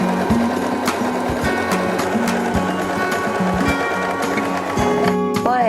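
A Janome 2049x sewing machine stitching in quick repeated bursts, its motor whirring loud and close with rhythmic needle clatter, pausing briefly between runs.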